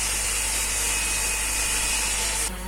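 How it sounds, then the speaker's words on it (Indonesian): A power tool cuts through scrap wood for a tabletop, a loud, steady whining buzz that holds for about two and a half seconds before it drops off abruptly. "Ini baru motong ke bagian akhir dari mejanya."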